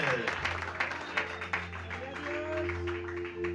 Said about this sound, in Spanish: Dale fuerte ese aplauso a Jesús de Nazaret esta noche.